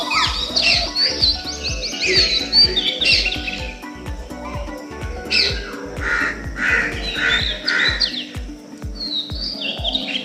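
A busy flock of crows calls loudly, harsh caws mixed among chirps and squawks of other birds, over a repeating low thumping in the background.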